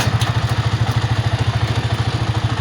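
A motorcycle engine running close by in a rural farm setting, a loud, steady rapid chugging pulse with a rough clattering texture and no talk.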